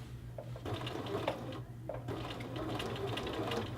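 Sewing machine stitching a men's shirt collar band, a steady close mechanical whirr with rapid rhythmic needle ticks running throughout.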